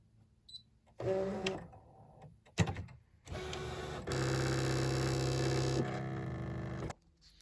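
A Brother ScanNCut machine cuts out thick homemade labels with a mechanical whirring hum. It starts and stops in short bursts, then runs as a steady, sustained motor drone for several seconds before halting.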